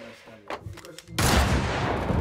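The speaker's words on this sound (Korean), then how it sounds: "조국의 한가운데에서 적의 심장을 노린 총성이 울리고" Gunfire in a Korean period spy film set against the Japanese colonial government, a few sharp reports at first, then a sudden loud sustained burst of shooting and blasts that fills the rest.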